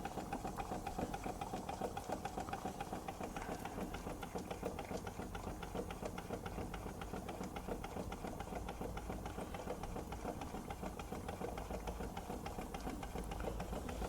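A Stuart Turner S50 model steam engine runs on a Fleischman hybrid steam plant, giving a steady, fast mechanical chuffing and clatter that stays even and close throughout with no talk.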